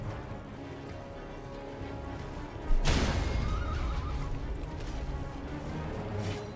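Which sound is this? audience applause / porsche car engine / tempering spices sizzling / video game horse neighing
video game horse neighing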